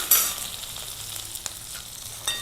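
Garlic fries on a gas stove in a soft, continuous sizzle, with a few faint stirring clicks and no talking.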